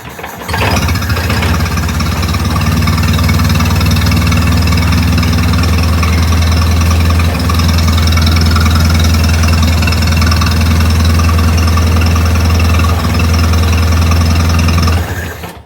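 A Cub Lo-Boy small farm tractor engine catches and settles into a steady, loud, low-pitched idle close by, running evenly without talk until it cuts off at the end.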